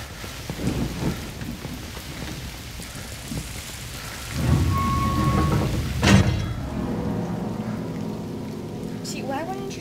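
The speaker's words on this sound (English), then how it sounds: "wait until you hear the rain and stuff stop" Steady rain with a thunder crack in the horror video game Bunker16, a dense wash of falling rain swelling midway as a loud thunderclap hits, then rumbling and dripping continuing behind it.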